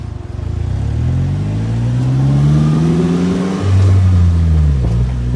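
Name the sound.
Polaris Slingshot driving and accelerating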